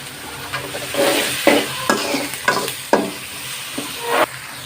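Onion and garlic fry in hot oil in a pan for a Bengali banana-flower and prawn dish, a steady sizzle broken by several loud scraping stirs of a spatula, with no talking.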